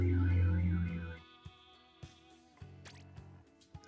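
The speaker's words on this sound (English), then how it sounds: "I hear a car alarm." A car alarm warbles loudly for about a second, then cuts out, leaving scattered sharp clicks and faint tones.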